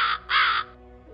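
Crow cawing twice, two loud harsh calls in quick succession close by, followed by quiet with no talk.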